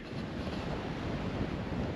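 Strong, gusty wind roars across open South Dakota ranch land in a blizzard-like storm, a loud continuous rush with buffeting gusts hitting the microphone, no voices.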